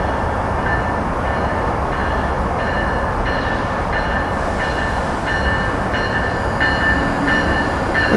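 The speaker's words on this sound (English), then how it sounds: "Here we got Amtrak Regional Train 193 pulling into Cornwells Heights here." An Amtrak Regional train led by an ACS-64 electric locomotive pulls into Cornwells Heights station, with a loud steady rolling rumble, repeated wheel clicks over rail joints and a high whine, and no voices.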